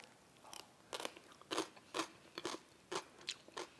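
A piece of raw radish is bitten and chewed close up, a series of about eight crisp, wet crunches in an uneven rhythm in a quiet room.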